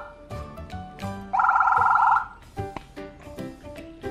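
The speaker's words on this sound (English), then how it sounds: "There's an alarm sound." A Smart Tools phone app sounds an alarm tone: a bright, steady electronic wail held for about a second, set among other short beeps and chirps from the phone.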